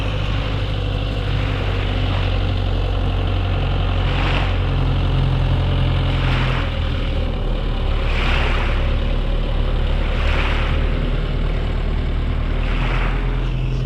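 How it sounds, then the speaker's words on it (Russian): Tractor running on a sandy seaside beach, a steady loud low diesel drone that rumbles continuously with periodic swells of higher mechanical noise, close and unbroken throughout. "Ну вот, правда, трактор здесь ходит."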